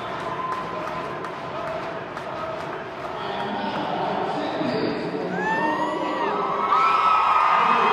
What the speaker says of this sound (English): You hear the screams here from all the Carmel fans who came out.